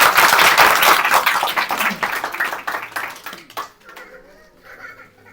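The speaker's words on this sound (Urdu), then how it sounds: "تالی بجائیں۔" A church congregation claps and applauds loudly, a dense burst of hand claps that gradually thins out and fades over several seconds, leaving a few scattered claps and soft murmuring voices.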